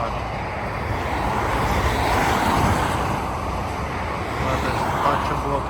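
Airplane taking off near the autobahn outside Frankfurt am Main at night: a broad, continuous distant roar blended with steady road traffic noise.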